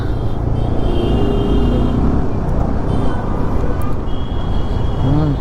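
Busy Bangalore road traffic heard from a moving Yamaha R15M motorcycle: a dense, steady rumble of car, bus and bike engines and road noise, with occasional passing vehicles and faint horn-like tones near and far.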